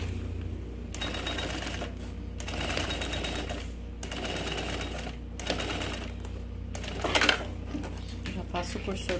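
A sewing machine stitching a seam on a zippered double toiletry bag, running in steady bursts of rapid mechanical clatter separated by short pauses, with someone talking over it.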